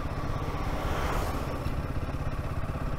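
A motorcycle engine drones steadily and close on a mountain road, with a continuous rumbling hum and wind rush lasting throughout, no voices over it.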